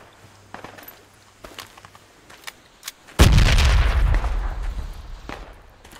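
In Project Reality, a frag grenade explodes with a sudden loud close boom, followed by a rumbling decay, after quiet footsteps and faint gunfire.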